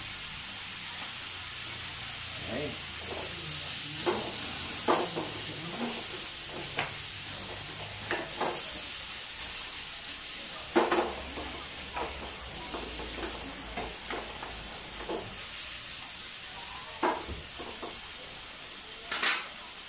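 Tilapia frying in a pan, a steady hiss of sizzling oil with scattered sharp pops and crackles throughout, plus occasional light clinks of cookware.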